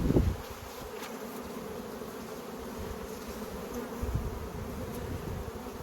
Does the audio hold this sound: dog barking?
no